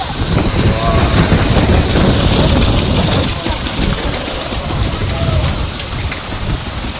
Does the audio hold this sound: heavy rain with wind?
yes